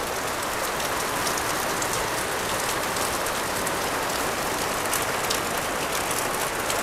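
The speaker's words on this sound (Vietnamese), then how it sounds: "Ngồi đây mình cho mọi người nhìn thấy mưa nè." Steady rain falling, a dense continuous hiss of drops spattering on surfaces, close and even throughout with no talk.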